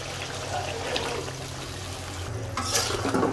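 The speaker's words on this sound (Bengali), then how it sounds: "আর এখন আমি মাছটা দিয়ে দিব।" Washed fish goes into a pan of spice paste, a soft sizzle and wet stirring with trickling water, a brief louder hiss near the end.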